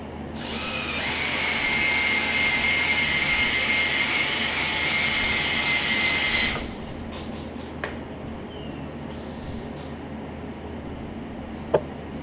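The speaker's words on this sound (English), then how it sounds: "I'm going to take my" A power drill whirs loudly and steadily for several seconds while removing rust from a water-damaged Coleman generator, then stops abruptly, followed by a few quiet clicks and a sharp tap.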